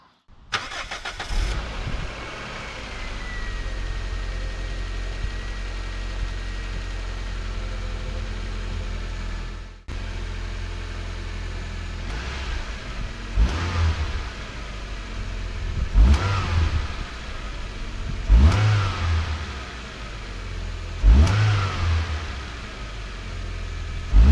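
A Toyota Corolla GTI E100 naturally aspirated engine with stock air filter idles steadily, then cuts briefly and restarts, followed by several sharp revs that rise and fall at regular intervals, close and loud.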